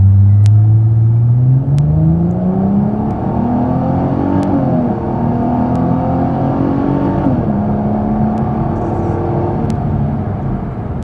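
A car launches hard from a standstill at about 1200 RPM during a performance run, its engine climbing steadily in pitch with brief dips at gear changes, loud and continuous for the whole stretch with no talking.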